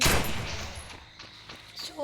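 AK-47 gunfire in the video game Free Fire, a quick burst of loud shots at the start followed by scattered fainter reports and thuds.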